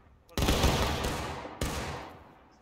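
Two loud musket volleys from massed Civil War infantry in War of Rights crack out about a second apart, each rolling into a long fading echo.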